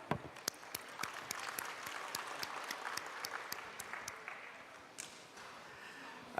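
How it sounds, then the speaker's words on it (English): An online forum audience applauds, a fairly faint spread of individual claps with a few sharp distinct hand claps standing out. "Let's give ourselves a round of applause."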